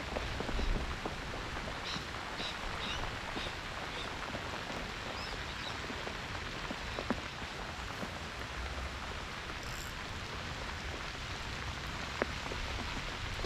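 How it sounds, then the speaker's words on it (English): Pouring rain falls during a fishing trip, a dense, steady patter of drops on surfaces all around, constant and fairly close, with faint bird calls in the background and no talking. "Damn rain."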